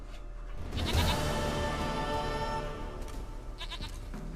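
A goat in The Witcher 3 lets out a loud, wavering bleat that trails off, followed by a couple of shorter faint calls against quiet game ambience.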